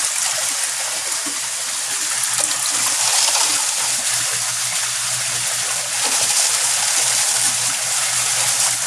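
Water from a koi pond pump pours in a steady broadband rush with a low motor hum beneath it, constant and close, with no pauses.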